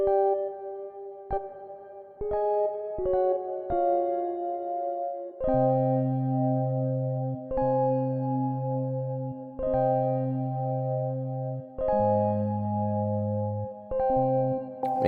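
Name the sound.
synth key sound with heavy reverb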